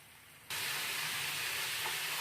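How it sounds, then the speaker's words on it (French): Meat hits a hot pan and bursts into a loud, steady sizzle after a brief quiet moment, frying continuously to the end. "je vais remettre à cuire ma viande"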